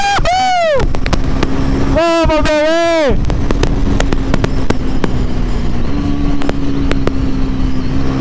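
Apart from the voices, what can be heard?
Pulsar NS 400Z motorcycle engine revving during a wheelie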